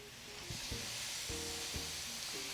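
Zucchini and green onion for pad thai sizzle quietly in a hot pan, a steady soft hiss with a few faint clinks of a utensil stirring.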